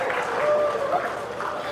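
An audience at a film audio launch event breaks into clapping, a sustained wash of applause from the crowd with a faint tonal sound threading through, fairly loud and steady across the moment.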